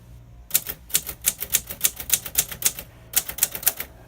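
A vintage Royal Quiet Deluxe typewriter with green keys types in quick, steady bursts of crisp close keystrokes, with a brief pause before the rapid clacking resumes; no voices.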